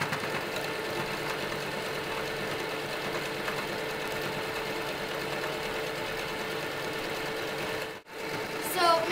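A sewing machine stitching fabric for a hat, running as a steady, close, continuous whir with a brief pause near the end before starting again.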